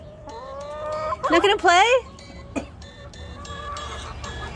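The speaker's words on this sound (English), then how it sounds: "Chicken came up to meet me." Chickens at a backyard coop give a burst of loud clucks and squawks close by, with soft background clucking around it and a person speaking briefly.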